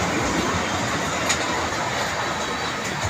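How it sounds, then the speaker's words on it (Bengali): A train runs along the rails during a rail journey near Narsingdi, giving a steady, close rumbling roar that fills the whole stretch without a break. "Journey by train."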